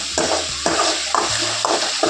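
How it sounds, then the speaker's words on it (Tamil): Food sautés in a pan, a continuous sizzle punctuated by about four rhythmic scraping stirs, close and fairly loud. "இது நல்லா வதக்கிடலாம்"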